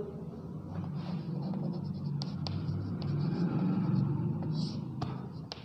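Chalk or marker scratching on a board during a biology lecture, faint scraping strokes with a few sharp taps, under quiet room noise and brief speech.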